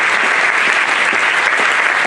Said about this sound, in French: Jean-François Kahn, on peut l'applaudir